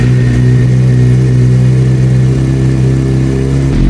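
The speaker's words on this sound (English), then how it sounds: "I need to start the bike up, let it get to a reasonable temperature so the oil gets hot and thin" A Suzuki GSX-R600 motorcycle engine running at a steady idle, loud and close with a constant low throbbing drone and no talk.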